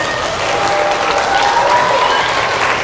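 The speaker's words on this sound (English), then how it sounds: "Give him a round of applause" A middle school audience gives steady, dense applause that holds at an even loudness throughout, filling the room without any voices rising above it.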